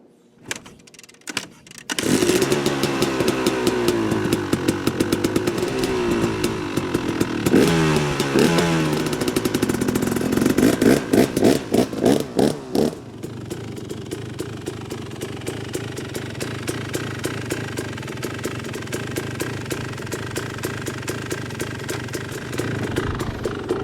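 An enduro dirt bike engine is kicked to life at a hard enduro event, catching with a loud crack, revving up and down sharply several times, then settling into a steady, rapid popping idle, close and alone.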